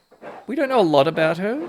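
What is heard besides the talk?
dog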